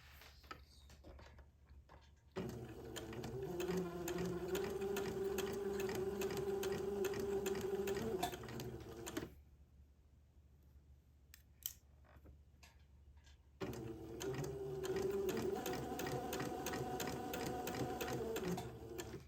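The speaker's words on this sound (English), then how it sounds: "I have one cuff sewn down with lace" A sewing machine stitches lace onto a cuff in two steady, fast-ticking runs, pausing for a few seconds between them with small handling clicks, close and fairly quiet.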